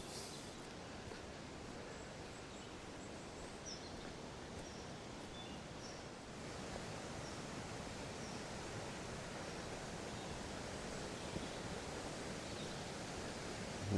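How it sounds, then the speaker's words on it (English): Steady rushing water fills the whole stretch at a caravan site in Kendal, a continuous broadband wash that swells slightly louder partway through, with no voices. "the only thing you can hear is the water"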